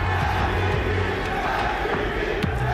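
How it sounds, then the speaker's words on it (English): Large esports watch-party crowd at a grand final chanting a three-letter rhythmic cheer, loud and dense, with roaring voices filling the hall throughout. "the crowd are chanting 3 letters"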